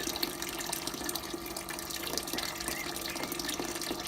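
Wort recirculating out of the chiller of a budget home-brew HERMS setup, a continuous trickling, splashing flow like running tap water, steady and close.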